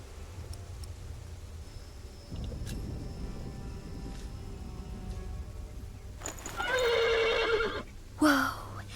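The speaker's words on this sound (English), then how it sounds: "The horse nearly woke the guard." Low rumbling background gives way to a loud, close horse neigh from the video game The Pillars of the Earth, a shrill whinny followed by a shorter second cry.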